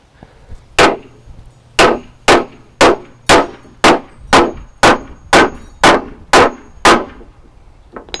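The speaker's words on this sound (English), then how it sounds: "We're even doing this overkill with a giant" A giant 28 framing hammer striking wood outdoors, eleven loud, sharp, ringing blows at a steady, fairly quick rhythm, each one trailing off briefly before the next.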